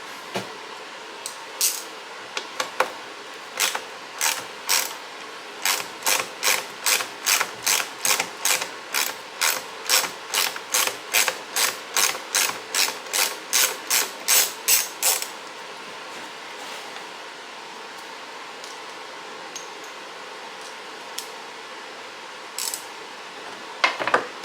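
Small screws are backed out by hand from the heater box lid of a 1978 Chevrolet Malibu Classic G-body, a long run of quick, evenly spaced metallic ratchet clicks, close and clear, tapering off near the end.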